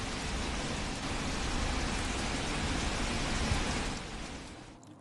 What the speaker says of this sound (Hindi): तो उत्तराखंड में ज्यादातर जगहों पर बारिश हो रही है।